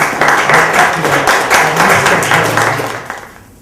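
An audience at a literary magazine reading applauds to welcome a poet, dense clapping from a room full of people that holds steady for about three seconds and then fades, with no voices.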